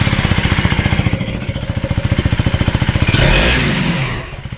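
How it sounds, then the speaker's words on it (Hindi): A 2025 KTM 390 Adventure X single-cylinder engine is blipped at close range, producing rapid, evenly pulsing thumps that swell into a sustained rev before dropping back to a throbbing idle. "दिखाते हैं आपको इसको, इस बाइक की आवाज कैसी है"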